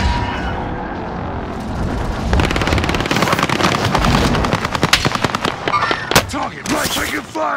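Rapid automatic gunfire in the Warzone video game on Rebirth Island, dense bursts of loud shots building and continuing with sharp cracks near the end, with players' voices talking over the action.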